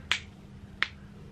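Two sharp, crisp clicks like finger snaps, spaced well apart and close by, each one alone against quiet room hiss during a makeup session, with no talking.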